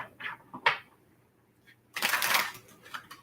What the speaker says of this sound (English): All right, one more shuffle.